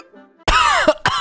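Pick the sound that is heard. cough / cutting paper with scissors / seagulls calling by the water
cough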